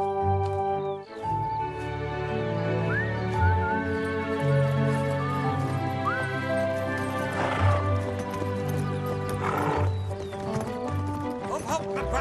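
Horse hooves clip-clop at a steady pace as a horse pulls a cart, heard under music and a neighing whinny.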